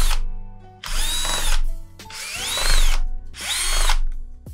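A power drill driving screws to fasten a CPU cooler heatsink while building a budget gaming PC, in three loud close whirring bursts with short pauses between them.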